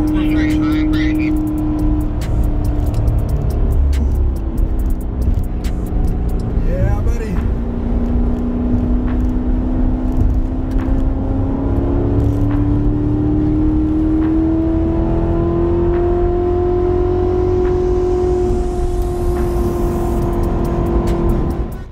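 Car on the Sonoma Raceway (Sears Point) road course accelerating under hard throttle, with a steady loud engine drone whose pitch climbs gradually over the run, continuous close-up cabin sound.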